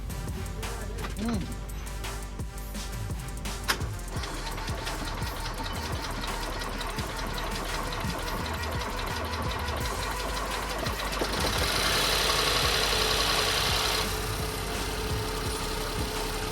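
A Ford 1.0 EcoBoost engine, just refitted with a new timing belt, runs with a fast, rough, ticking clatter that grows louder and busier partway through while people talk over it.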